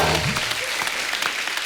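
A studio audience claps during a Kapil Sharma comedy show, a brief burst of close, steady applause that starts loud and thins out after a moment.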